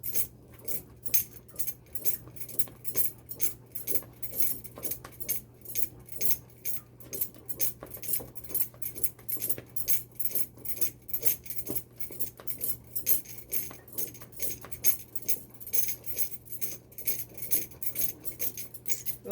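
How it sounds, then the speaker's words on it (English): Fufu is stirred in a pot with a wooden spoon in a fast, steady rhythm of soft knocks and scrapes against the pot, repeating for a long stretch under a low constant hum, no talking. "it's a lot of stirring"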